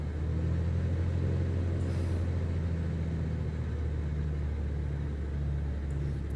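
A light aircraft piston engine in Microsoft Flight Simulator rises from idle to about 1200 RPM during pre-departure checks, a steady, droning low hum at moderate level with no talk over it.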